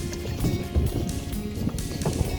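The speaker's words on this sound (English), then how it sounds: "now we're paddling back home canoe style." Canoe paddled on water on an Alaskan fishing trip with kids, soft splashing strokes under steady wind rumble and low noise, close by.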